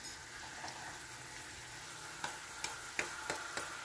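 Green beans and ground pork stir-frying in a pan, a steady soft sizzle with a few sharp clicks of a utensil scraping and stirring near the end.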